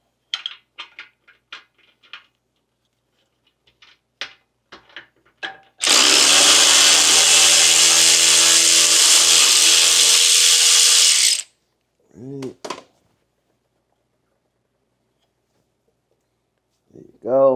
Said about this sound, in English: So I'm gonna see if I can squeeze my wrench in there without having to remove any more.